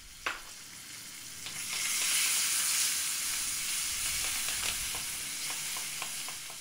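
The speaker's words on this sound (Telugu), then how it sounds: "అలా వేపుకున్న వేపుల్లో ముందు ఉడికించుకొని పెట్టుకున్న మామిడికాయ గుజ్జు కలుపుకొని" Cooked raw mango pulp sizzles and fries in an oil tempering for mamidikaya pulihora. A close, steady hiss swells as the pulp is stirred in, with faint clinks of stirring and no talk.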